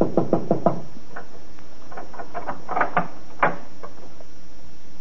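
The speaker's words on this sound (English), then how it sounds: "He goes to the door, and there he knocks." Someone knocks on the wooden door of a house in an old radio drama, a quick burst of four raps followed by further irregular knocks, fairly close and clear, with no talk.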